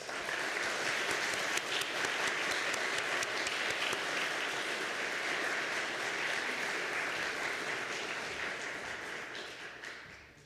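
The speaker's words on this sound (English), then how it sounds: "Let's go ahead and give her a round of applause." Church congregation applauding after a musical performance in a worship service, a steady dense wash of clapping that holds evenly before fading out at the end.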